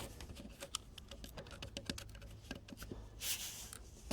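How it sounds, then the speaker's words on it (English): Corrugated plastic drainage pipe for a downspout being cut, heard as a quiet run of rapid, irregular small clicks and ticks, ending in a brief rougher scraping burst. "These corrugated pipes, they cut easily, very easily."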